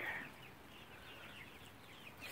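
Chickens clucking softly and continuously, a low flock murmur of mixed-breed hens close by in a quiet barn setting, with no voices over it.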